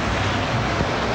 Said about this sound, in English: This has a waterfall here, which does recirculate.